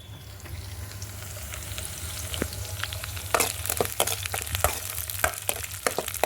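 Onions fry in a pan over a wood-fired stove, a steady crackling sizzle with a low fire rumble beneath, then sharper stirring clatters and pops in the latter half.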